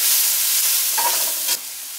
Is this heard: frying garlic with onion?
yes